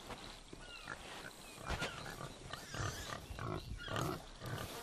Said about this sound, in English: Oh my god, there's pigs!